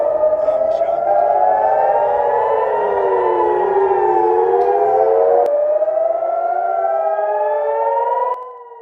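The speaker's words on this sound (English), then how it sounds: "we're hearing the sirens in Haifa, so there's going to be a missile" Loud civil defense air raid sirens wail in Haifa, Israel, warning of incoming missiles, their pitch rising and falling in overlapping sweeps, continuous until fading slightly at the end.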